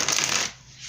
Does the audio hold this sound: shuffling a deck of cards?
yes